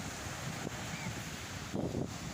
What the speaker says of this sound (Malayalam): ഇതാണ് അടുത്തുള്ള ബീച്ച്